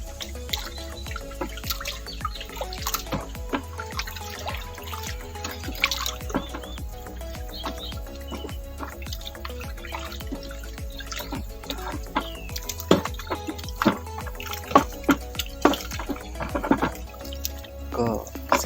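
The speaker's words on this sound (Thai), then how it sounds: "คนคนกวนกวนให้ส่วนผสมเข้ากันนะครับ" Sugar and liquid stirred together in a container for artificial coconut water, giving soft liquid sloshes, drips and clinks under steady close talking.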